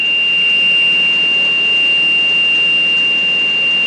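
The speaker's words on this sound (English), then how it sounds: "anytime a designated shaft slows down or stops rotating, an audible alarm will sound to alert the operator" A steady, unbroken electronic tone from a 1980s Case International Axial Flow combine's shaft monitor alarm sounds loud and continuous over background machine noise.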